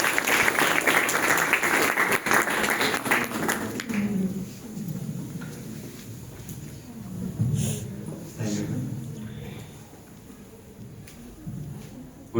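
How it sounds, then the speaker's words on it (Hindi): An audience at a motivational session claps loudly for a sponsor's representative from a university, dense applause for about four seconds that then dies away into quieter room noise and a few scattered claps. "एक बार जोरदार तालियों से स्वागत करें।"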